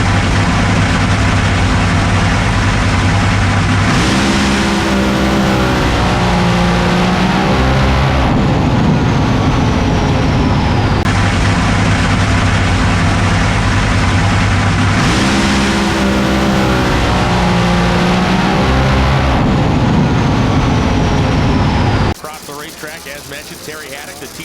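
A drag racing car engine at a drag racing semi-final event rumbles loud and close, rising through repeated throttle revs with a steady harmonic roar before cutting off abruptly near the end.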